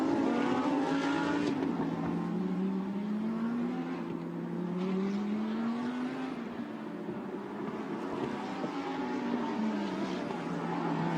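Lamborghini Super Trofeo race cars at the Yeongam circuit in 2019, several engines droning and shifting pitch together as they climb toward a hairpin, a steady, loud roar with rising and falling tones and no voices.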